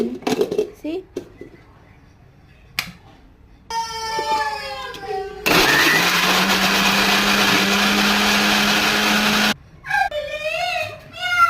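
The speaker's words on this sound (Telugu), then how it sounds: "టమాటాలు మిక్సీ కొట్టేసి" A mixer grinder blends tomatoes for rasam, a loud steady whirring drone lasting about four seconds, with voices and wailing sounds before and after it.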